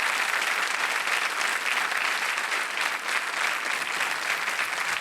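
A studio audience on a televised quiz show claps in dense, sustained applause that stays full and even from start to finish, with no talk over it.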